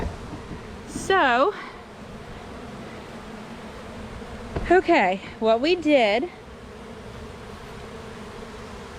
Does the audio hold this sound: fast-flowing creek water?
no